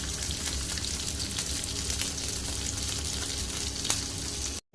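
Tilapia fries in a pan with a steady, dense crackle of hot oil, close and even throughout, a few sharper pops standing out before the sizzle cuts off abruptly at the end.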